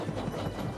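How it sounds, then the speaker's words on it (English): Cartoon steam engine on an island railway, chugging along the track with a rhythmic clickety-clack and puffing over a bright musical backing, short and continuous at a steady level. "Who's that puffing down the track?"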